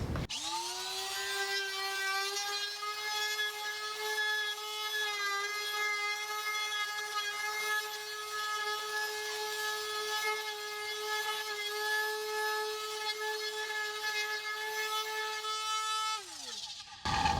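A Drill Master 1/2 HP trim router with a 1/4-inch collet runs at a steady, high-pitched whine for about sixteen seconds, loud and close, then winds down at the end.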